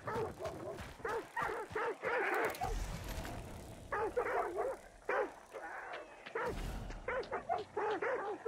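Several dogs bark repeatedly in Hunt: Showdown 1896, with sharp, fairly loud yipping barks in irregular clusters over the game's ambient background.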